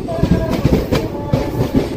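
A special passenger train runs from Rajahmundry toward Araku, a loud, steady rumble with rhythmic clicking of the wheels over the rail joints.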